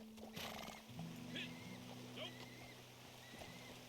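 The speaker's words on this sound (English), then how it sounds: "I love how your horse can just get into that freezing cold water up here." A horse wades through freezing cold water in a video game, with splashing, hoof sounds and a brief whinny, fairly faint under the steady game ambience.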